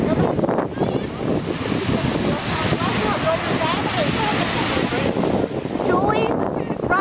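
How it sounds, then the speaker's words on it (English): Surf breaking on a beach with steady wind noise on the microphone, a continuous loud wash of waves throughout, with voices talking over it. "running away from waves like a coward"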